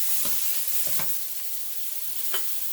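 Yellow onion and morel mushrooms fry in a pan with a bright continuous sizzle, punctuated by several soft scraping stirs, close up with no voices.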